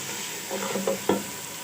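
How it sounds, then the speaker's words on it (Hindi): Spices and chicken stock cube being fried and stirred for lentil daal, a steady sizzle with a few louder scraping stirs of a spoon against the pan, close and with no talking. "अब इसको अच्छे से भून लेंगे इसके साथ"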